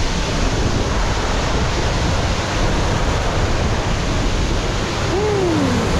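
Waterfall at Cascada Laguna Submarino near Ushuaia, a steady, loud roar of falling water filling the whole clip, close by and unbroken, with a faint whistling tone near the end.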